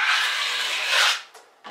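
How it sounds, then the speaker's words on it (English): A wide trowel drawn across the wall to spread thin joint compound for a skim coat gives a close, loud rasping sweep lasting about a second, followed by two short scrapes. "So I'm using a lot wider trowel this time, and I got my mud pretty thin."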